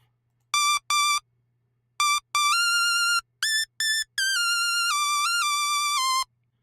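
A bright, buzzy synth lead, the Thor preset Gangsta Lead 3 in Reason 12, plays a short melodic phrase alone, with clipped staccato notes giving way to longer sustained tones, steady and loud.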